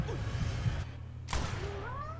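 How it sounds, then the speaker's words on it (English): A cat meows in a game scene, with a short rising cry near the start and two more drawn-out, gliding meows toward the end over a steady low background hum. "now that's why he's meowing"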